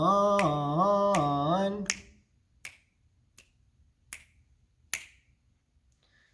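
Finger snaps keep a steady four-beat pulse, four sharp, isolated clicks spaced evenly after a short sung phrase, close and clear against near silence.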